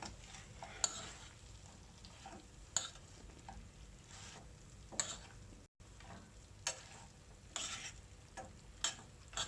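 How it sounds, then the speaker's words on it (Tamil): Fried chicken wings are stirred into sauce in a pan, making repeated soft scraping strokes at a steady, unhurried rhythm over a faint sizzle, close and quiet with no talking. "இதில் நம்ம ஃப்ரை பண்ணி வச்சுருக்க அந்த சிக்கன் இதில் ஆட் பண்ணிடலாம்."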